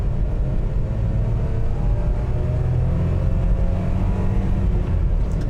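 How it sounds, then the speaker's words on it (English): A 2001 Honda Acty SDX 4WD kei truck engine pulling under acceleration, a steady close droning hum with faint rising harmonic lines, loud and continuous inside the cab with no talk. "You could probably hear the engine a little bit more then."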